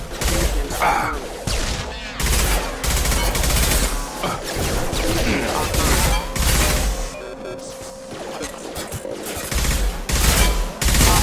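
Heavy sustained gunfire in Mass Effect 2 as a squad shoots at hostile mechs, dense bursts of shots and impacts hammering nearly continuously with brief pauses and occasional crashes.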